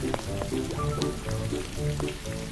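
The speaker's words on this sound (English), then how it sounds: "it begins to rain." Rain falling in a Peppa Pig stop-motion episode, a steady soft patter and sizzle under light music-like tones, fairly quiet throughout.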